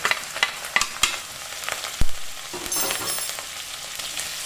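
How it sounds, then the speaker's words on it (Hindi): Grated ginger and chopped chillies hit hot oil with cumin seeds and fry, giving a bright, steady sizzle punctuated by sharp spoon taps and a sudden louder hiss as the ingredients go in. "अब इसमें मैं ग्रेट किया हुआ अदरक और मिर्चाई, चॉप किया हुआ मिर्चाई डाल दूँगी।"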